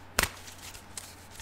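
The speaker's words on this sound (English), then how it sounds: "sometimes I just keep shuffling because I feel like I should keep shuffling" Tarot cards being shuffled by hand during a reading: one sharp, dense riffle burst near the start, then a few faint soft card rustles trailing off, close and quiet.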